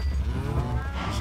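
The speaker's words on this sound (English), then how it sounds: "Look at all these cows." A single low, drawn-out cow moo from the video game Minecraft sounds close and clear, filling the full second with no talking.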